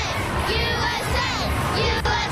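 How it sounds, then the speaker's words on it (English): A large, loud parade crowd celebrating the World Cup champion U.S. women's soccer team chants and cheers in unison, a dense roar of many voices close by. "There's chants of USA down here"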